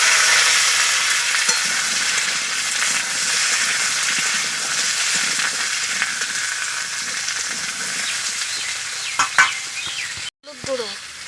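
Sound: frying cut potato and pumpkin in oil

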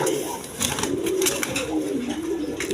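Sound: colored Rajgolla pigeons cooing

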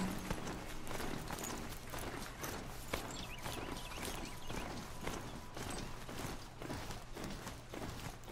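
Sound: horse hooves clopping in the video game Horizon Zero Dawn

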